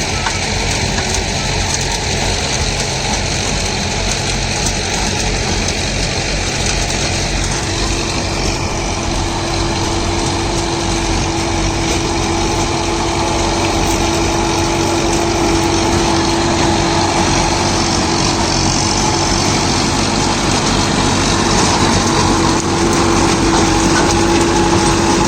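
Tractor engine running in an overgrown, forest-like field during field preparation, a steady loud drone that stays constant throughout with no voices.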